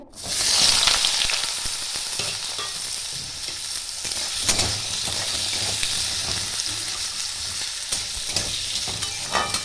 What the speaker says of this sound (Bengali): গরম হয়ে গেছে, এবার আলুগুলো আমি ভেজে নেব।